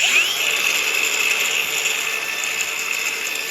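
A Procraft AG125B cordless angle grinder whines steadily on third speed at about 9500 rpm, a loud, constant high-pitched motor drone close by, holding its pitch throughout with no talking.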